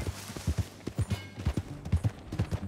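Horse hooves in Red Dead Redemption 2 clip-clop in a steady, fairly loud rhythm of paired strikes, with quiet game ambience behind them.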